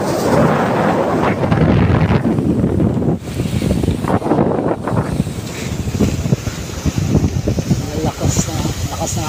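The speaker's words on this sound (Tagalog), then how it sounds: "Lakas ng hangin" Strong wind roars and buffets the microphone without letup, a loud, rough rush with a faint wash of waves beneath.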